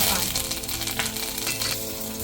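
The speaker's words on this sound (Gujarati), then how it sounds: "તેલ ગરમ થઈ ગયું છે તો એમાં આપણે નાખીશું રાઈ" Mustard seeds, cumin, asafoetida, cloves, bay leaf, dried chili and curry leaves sizzle in hot oil as a tempering for Gujarati sweet-and-sour dal, a loud, steady, close crackling hiss that runs throughout with a faint tonal hum beneath.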